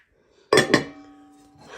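Two sharp metallic clanks ring out as cooking pots are handled, the second quickly following the first, leaving a lingering tonal ring before another soft knock at the end.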